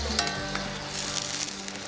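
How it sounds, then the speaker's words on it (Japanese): Beef tongue, grilled and seasoned with salt, pepper and garlic, sizzles steadily after going into a pot on a camp stove, a close, continuous frying hiss with no talking. "このタンをお鍋に入れていきます"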